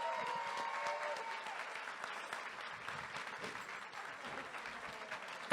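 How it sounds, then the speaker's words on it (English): A convention crowd at the Star Trek Voyager 20th reunion panel, Space City Comic Con 2015, applauds continuously and fairly loudly for several seconds, a dense, even wash of clapping with no pauses. "Let's give him applause."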